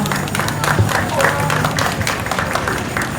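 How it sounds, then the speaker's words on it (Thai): A concert audience applauds young performers in a dense, steady wash of clapping that holds at an even level throughout, with voices mixed in underneath. "เสียงปรบมือให้กับน้องๆทุกคนด้วยค่ะ"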